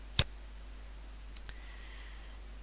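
A single sharp computer mouse click on a File menu, brief and close, followed by near silence with a couple of faint ticks.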